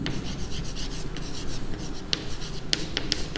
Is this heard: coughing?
no